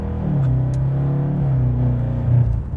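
A BMW 650i Gran Coupe with an 8-speed automatic accelerates hard, its engine a steady, close, throaty drone with a slight swell near the end, heard alone without talk.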